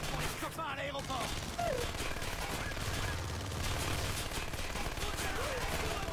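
Gunfire crackles in Splinter Cell Conviction as rapid bursts and fusillades sound at mid distance, dense and continuous, with shouting voices over the shooting.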